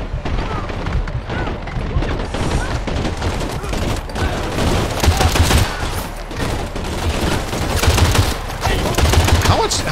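Rapid video game gunfire, dense bursts of shots and booms firing against an armored enemy, loud and continuous throughout, with voices talking over the action.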